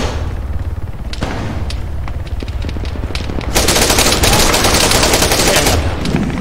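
Arma 3 gunfire: sharp rifle reports crack out singly and in short bursts, then give way to a sustained, loud machine-gun stream of rapid shots with heavy thumps, dense and close for the last few seconds.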